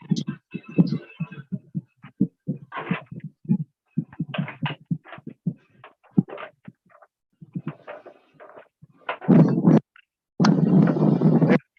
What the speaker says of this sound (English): Well, yeah, that noise. The wind is getting bad.